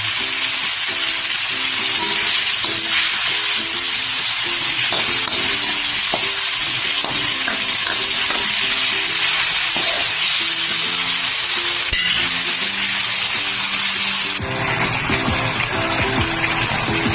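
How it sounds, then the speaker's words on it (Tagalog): Food sizzles and bubbles in a pan, a steady frying hiss with occasional clinks and stirring scrapes, no one speaking. "Ayan po, kumukulo na siya."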